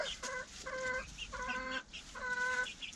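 Several chickens cluck nearby in quick, repeated calls, a steady chatter of short, nasal notes.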